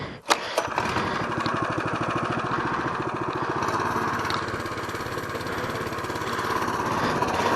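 A motorcycle engine is started on choke, one sharp crank-and-catch burst before it settles into a loud, steady, slightly uneven idle that runs close and continuous with no voices.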